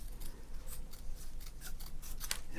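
Scissors snip through 1988 Donruss sports cards in a quick series of crisp, close cuts, each a sharp papery crunch, with soft rubbing of card stock between snips and no voices.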